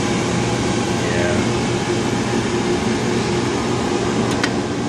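A 70mm film projector runs with its platter rollers feeding film, giving a steady, unbroken mechanical whir and hum that stays constant and fairly loud throughout, with a faint brief tick near the end.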